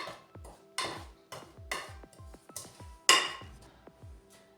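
A spoon scrapes and clinks against a bowl as spice masala for fried fish is mixed, a string of sharp taps and knocks in an irregular rhythm, close and clear without talk.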